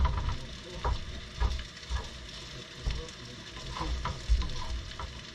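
Stir-frying in an oiled frying pan: a steady sizzle broken by rhythmic scraping and knocking strokes of the spatula, close and fairly loud.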